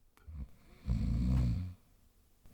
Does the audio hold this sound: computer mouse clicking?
no